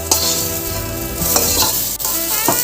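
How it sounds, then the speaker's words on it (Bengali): Bitter gourd slices fry in hot oil in a wok, giving a steady, loud, close-up sizzle with brief scraping stirs and clinks at intervals and no talk. "খুব বেশি করলাটা ভাজা হবে না যেরকম দেখছেন এরকমই করলাটা ভাজা হবে"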